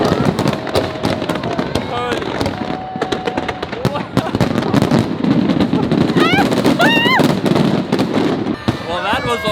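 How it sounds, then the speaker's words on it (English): A fireworks show bursts in rapid, loud pops and crackles over continuous cheering and excited talk from a nearby crowd, with rising whistles near the end. "This is the best fireworks show I've seen in my life."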